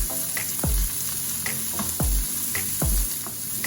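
Red and green peppers fry with other vegetables in a pan for veggie rice, a steady close sizzle broken by a few swishing stirs, with no voices.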